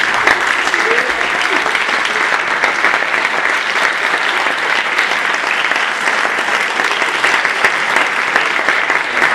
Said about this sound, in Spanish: También me permito pedirles un fuerte aplauso